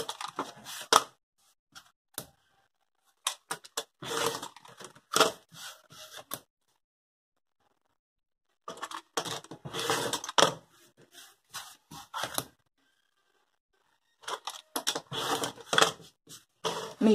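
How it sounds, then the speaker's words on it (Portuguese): Fabric patchwork block edges trimmed in several bursts of sharp, close crisp cutting sounds separated by silent pauses, steady and fairly loud with no talking. "Vamos aparar as laterais."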